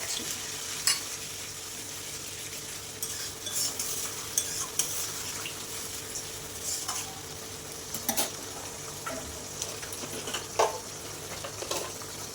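Moong dal and pointed gourd fry in a pan with spice paste and ripe tomato, giving a steady low sizzle broken by scraping spoon strokes and occasional metallic clinks, close and quiet with no speech.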